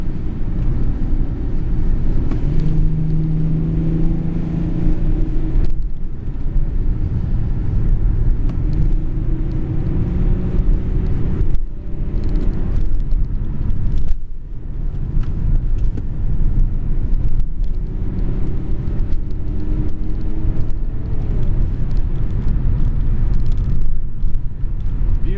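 A BMW E36 325td diesel cruises along the road, its interior filled with a steady loud low rumble of engine and tyres that surges slightly at a few points, with no talking.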